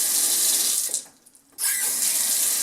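Water runs from a kitchen faucet into the sink in a steady, loud hissing stream that briefly cuts off and then starts again.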